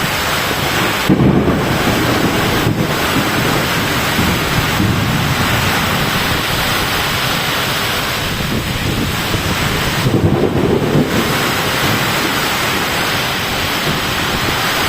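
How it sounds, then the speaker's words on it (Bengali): A violent storm roars outdoors, heavy rain and strong wind blasting continuously and loudly into the microphone for about fifteen seconds, with deep rumbles that swell and fade at intervals. "প্রচুর ঝড় বৃষ্টি, ভয়াবহ ঝড় শুরু হয়েছে"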